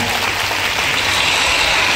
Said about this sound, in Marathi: सो त्यांच्यासाठी एकदा जोरदार टाळ्या झाल्या पाहिजे